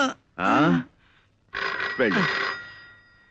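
A telephone bell rings in two bursts, a short ring then a longer one, loud and close, with a brief quiet gap between.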